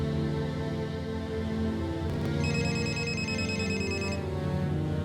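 A telephone rings steadily and loudly in a Tamil-language drama scene, its repeating electronic ring continuing throughout with no voices over it.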